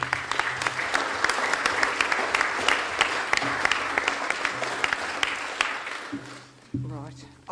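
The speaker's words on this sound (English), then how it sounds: "I was supposed to have asked you for a round of applause, but I think we've already done that bit" An audience at a full council meeting in Dudley applauding, dense sustained clapping close by that continues throughout, with voices underneath and the applause thinning toward the end.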